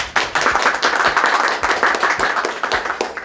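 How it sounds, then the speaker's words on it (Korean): Dense, steady applause from a studio audience welcomes Gwangmyeong mayor Park Seung-won as the first guest of an urban-regeneration interview show, with many hands clapping continuously and evenly for about three seconds and no talk over it. "큰 박수 부탁드리겠습니다"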